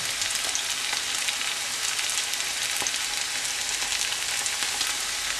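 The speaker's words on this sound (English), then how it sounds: "Try to use wide pan like this. And you can put lot of pakoda mixture." Olive pakoda mixture frying in a wide pan of hot oil, a steady close sizzle with crackling pops throughout, no voices.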